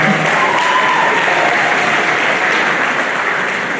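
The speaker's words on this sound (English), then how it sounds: "If you want to clap, I think you can clap." An audience at a talk on professionals in politics and nation building claps steadily in a dense, continuous round of applause that fills the room throughout.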